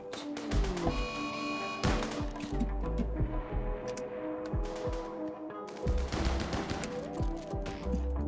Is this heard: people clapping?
no